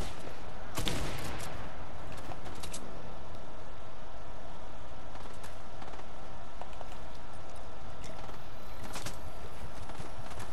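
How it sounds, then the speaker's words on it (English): Gunfire in the video game Fortnite: sharp, crackling shots in a loud burst near the start, then scattered quieter bursts over a constant background hiss. "oh, he's shooting at you, bro."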